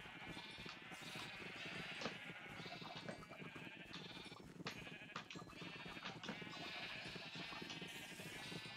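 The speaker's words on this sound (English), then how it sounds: "I think I have a lot of gray sheep." Sheep in the Minecraft video game bleat repeatedly in overlapping calls, several animals close by, with a constant soft background behind them.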